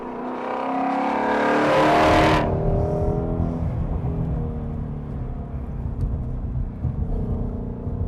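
A powerful Ford Mustang Shelby sports car engine roars as it accelerates hard, rising in pitch, then drops to a lower, steady rumble as the revs settle.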